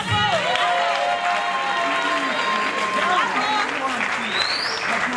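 Audience applause at a live stage show, a steady dense wash of clapping from a crowd, with a voice speaking over it throughout.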